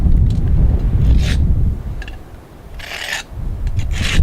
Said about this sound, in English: you can sharpen any object like that in the bush